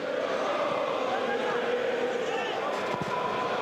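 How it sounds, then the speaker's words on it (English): A steady roar fills the stadium at a third-division football match between FSV Zwickau and Borussia Dortmund II, a continuous broad crowd noise with a commentator talking over it. "Crowd into it now."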